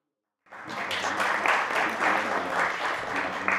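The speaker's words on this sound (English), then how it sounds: "Clap for yourself." A university audience at Lukenya University applauding themselves, dense steady clapping that starts abruptly after a brief silence and carries on at a strong, even level.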